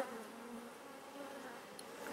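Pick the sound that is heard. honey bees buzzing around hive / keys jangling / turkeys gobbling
honey bees buzzing around hive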